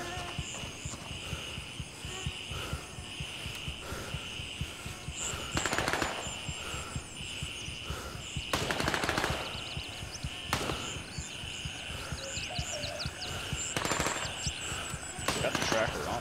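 Video game gunfire in Gray Zone Warfare, with bursts of rapid automatic shots and single cracks spread through the clip over a steady background, and a voice talking at times.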